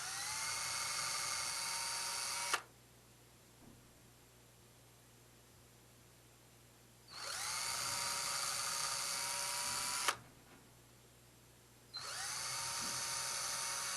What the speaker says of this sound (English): I'm going to use one of the provided 1/16 drill bits